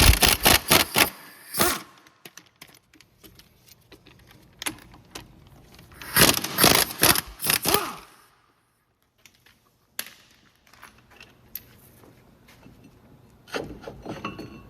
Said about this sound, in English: taking the brake caliper assembly off with the bracket, and they should be 21mm bolts